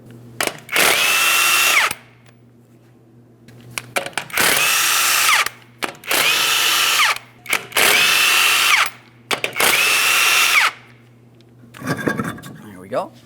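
Five loud, close bursts from an impact gun spinning off the 21mm lug nuts on a front wheel of a Ford Transit 250 van, each burst a second or two long with short pauses between, ending in softer clatter.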